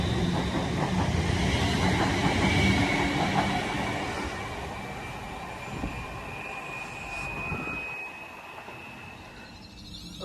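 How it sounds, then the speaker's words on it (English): A Northwestern Rail passenger train on the Liverpool Lime Street to Birmingham New Street service passes through Acton Bridge station, a loud, close rumble and rail roar that slowly fades, with a high whine along the track. "there goes the 1059, runs the Northwestern Rail service to Birmingham New Street via Wolverhampton from Liverpool Lime Street"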